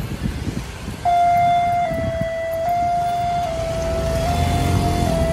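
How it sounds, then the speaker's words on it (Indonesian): An old siren at a railway level crossing starts suddenly and sounds as a loud, steady tone, holding its pitch over outdoor street noise for several seconds. "Baru sirine lamanya yang dibunyikan"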